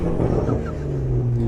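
A straight-piped 2008 BMW M135i with a 3 litre twin turbo engine drones from inside the cabin, a steady low rumble with a faint rise in revs.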